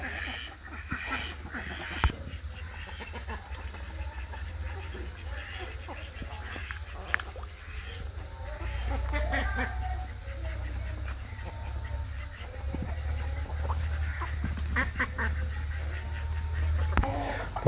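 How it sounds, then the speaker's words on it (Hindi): Ducks quack around a yard just after being let out of their enclosure, joined by chickens, in a busy mix of bird calls over a steady low background rumble, with people talking throughout. "और बाहर निकलने के बाद बतखें जो है वो काफ़ी खुश हो गई हैं।"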